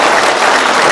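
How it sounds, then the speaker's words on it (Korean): A concert audience applauds the Seoul Gloria Choir and a veterans' association choir, giving a loud, dense, continuous burst of clapping. "다시 한번 박수 부탁드리겠습니다."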